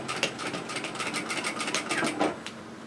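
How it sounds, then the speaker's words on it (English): Domestic sewing machine runs straight across the top of a fabric tote bag, a close, rapid rhythmic clatter of the needle with brief pauses as it stitches. "I'm going to stitch straight across the top."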